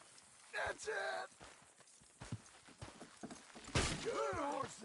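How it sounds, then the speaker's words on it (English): Horses pulled along by the reins clip-clop on the ground while neighing and whinnying, with a loud whinny near the end; a voice speaks intermittently over the hooves. "Good horses."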